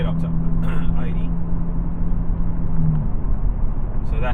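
Steady road and engine rumble inside a car cruising at 80 in 8th gear fitted with an axle-back exhaust, a low constant drone with tire noise and no speech.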